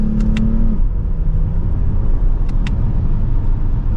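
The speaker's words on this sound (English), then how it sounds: "With a mild acceleration, we are up to the speed limit." A 2023 Lexus ES 350 F Sport pulls away under mild acceleration in Sport S Plus mode, with a steady low engine and road rumble heard from inside the cabin and brief faint clicks over it.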